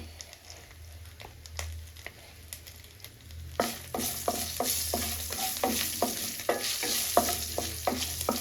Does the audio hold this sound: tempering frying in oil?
yes